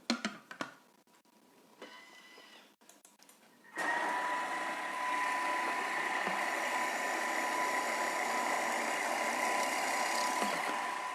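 A food processor grinds peanuts into crunchy homemade peanut butter at speed 5. After a few sparse knocks and clicks, the motor starts up and runs as a steady, fairly loud whirring drone for the rest of the clip.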